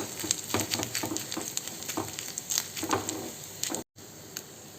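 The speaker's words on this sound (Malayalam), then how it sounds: "നമ്മുടെ നാളികേരം നന്നായിട്ടൊന്ന് വറുത്ത് വരണം" Grated coconut roasts in a pan with a soft dry sizzle, punctuated by repeated scraping and stirring sounds, close by.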